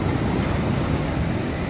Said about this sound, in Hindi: ये देखो समंदर की लहरें आती हुई